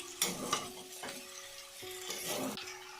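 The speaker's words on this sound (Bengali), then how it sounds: "নুনটা আমি ভালোভাবে মিশিয়ে নেব সবজির সঙ্গে।" Salt is stirred through mixed fried vegetables for navaratna curry in a pan, giving a few soft, close scrapes and taps of a spoon against the metal over a faint background hiss.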